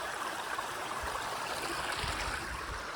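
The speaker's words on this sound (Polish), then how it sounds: "Tak się prezentuje rzeka, bardzo fajnie." A Polish river where gold is panned flows past nearby in a continuous, even rush and gurgle of moving water, with no talking.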